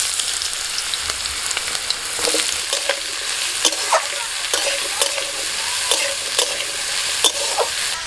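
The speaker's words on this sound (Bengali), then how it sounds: "কড়াইতে দিয়ে দিচ্ছি অল্প সর্ষের তেল, দিচ্ছি অল্প কালো জিরে ফোড়নে, কালো জিরেটা একটু ভাজা হয়ে গেল, ওর মধ্যে দিয়ে দিচ্ছি হোঁপা" Hupa fries in mustard oil with black cumin in a wok, giving a steady close sizzle broken by frequent clicking scrapes of a spatula stirring against the metal.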